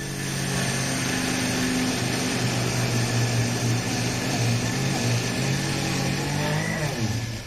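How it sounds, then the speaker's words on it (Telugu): A kitchen mixer grinder grinds soaked rice with water, giving a loud, continuous motor whine with a churning drone. The sound stays steady throughout and stops at the end. "ఇప్పుడు మనం మిక్సీ పట్టుకుందాం"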